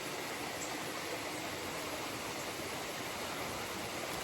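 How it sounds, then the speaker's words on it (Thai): A waterfall flowing near a cliff and mountains, a steady, dense rushing hiss with no breaks, loud and close and uninterrupted by voices. "เห็นน้ำตกไหล"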